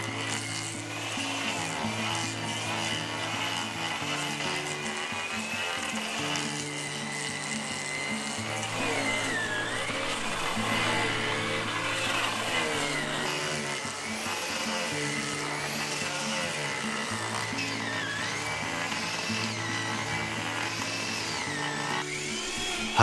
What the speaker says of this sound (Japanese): これは丸太の皮むき専用の機械です。